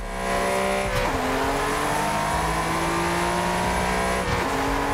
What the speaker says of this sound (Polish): jak jedziemy sobie na tej kamerze z maski, to faktycznie słychać silnik, a nie wydech